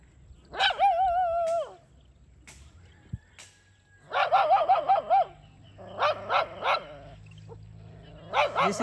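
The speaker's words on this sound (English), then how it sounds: "This is how dogs bark in Jamaica." Dogs barking in Jamaica in the aftermath of Hurricane Beryl, repeated bursts of loud, fairly close barks and yips with short pauses between.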